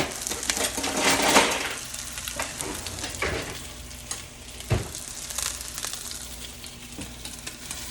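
Meatballs fry in a pan with a steady, crackling sizzle, broken by clinks and knocks of tongs against the pan as they are moved and turned.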